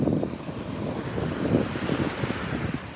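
Wind buffets the microphone in gusty rumbles over the steady wash of surf on a Sanibel beach at sunset, loud and close, with no talking.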